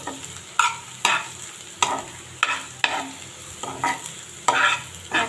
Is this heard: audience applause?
no